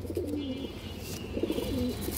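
Pet pigeons coo softly nearby, two rolling, throaty coos a second apart over a faint background hum.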